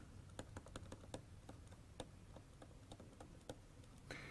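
Fingers tap on a computer keyboard in a quick, irregular run of crisp keystrokes, close and quiet, with no voice over them.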